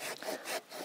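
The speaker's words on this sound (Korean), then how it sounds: "이렇게 해서 이걸 나무를 잘라내는 거야" A hand saw cuts through wood outdoors at a bushcraft camp, two or three close rasping strokes back and forth.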